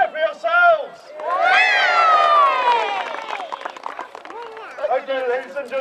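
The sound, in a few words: audience cheering at a jousting display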